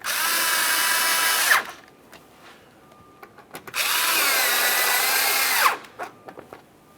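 A power drill driving two 7mm mounting screws under a GMC Acadia front bumper cover, two loud whirring bursts of about two seconds each with quiet handling clicks between.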